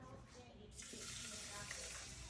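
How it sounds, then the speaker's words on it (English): Water pours from a tap into a pan holding quinoa, starting as a soft trickle and then swelling into a steady, bright gush that keeps running to the end. "Add your water."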